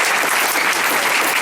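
A congregation at a Christian ministry prayer gathering claps vigorously together, a loud, even burst of applause with no voices on top.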